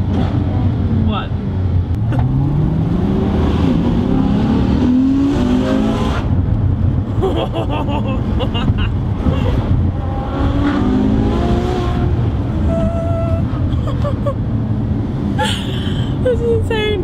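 A Ferrari F12 sports car accelerates hard and revs, its engine rising and falling in several surging pulls under continuous loud road and wind noise, with occasional voices inside the cabin.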